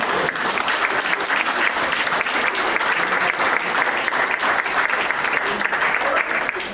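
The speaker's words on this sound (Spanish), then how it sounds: "¡Hala, pueblo! ¡Aplaudamos esto!" A crowd at an election-related gathering claps loudly and continuously, a thick, even wash of many hands close by, with some voices mixed into the applause.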